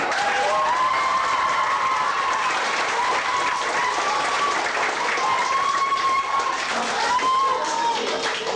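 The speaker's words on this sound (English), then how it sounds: "So a big round of applause for James." Audience applause at a 1993 primary school concert in Kilgarvan, steady and dense clapping filling the room throughout, with a few voices and a faint whistle-like tone riding over it.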